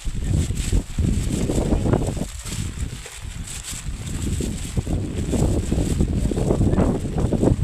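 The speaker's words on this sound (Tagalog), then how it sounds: "Mahangin pero mahangin maulan." Gusty, rainy wind roars steadily into the microphone, a broad rumbling buffet that swells and eases throughout, with no clear voices.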